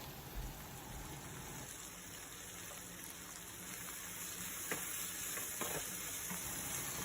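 Upma vegetables with salt and turmeric are stirred in a pan, making a faint, steady sizzle and hiss with a few soft scrapes of the spoon toward the end, quiet and without talk.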